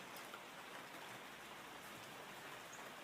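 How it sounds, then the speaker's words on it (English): Steady rain falls on a morning in Panama, a soft, even hiss of drops that holds without a break and stays faint and distant-sounding. "But it is raining."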